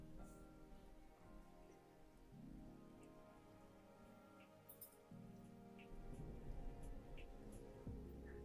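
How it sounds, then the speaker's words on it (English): Soft rain falls in the background beneath a low, steady hum, faint and continuous with scattered small drips and no talk over it. "we also have like thunder and rain sound in the background."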